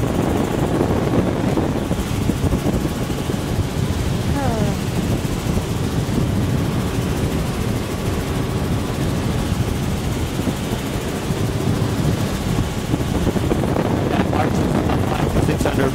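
Steady, loud helicopter rotor and engine noise throughout, heard from inside the cabin with wind buffeting and a voice talking over it.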